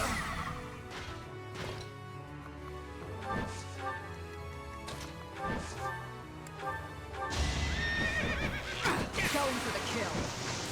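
Horse neighing in Fire Emblem: Three Houses, a loud whinny among game music, clatter and hoof sounds, with someone talking over the play.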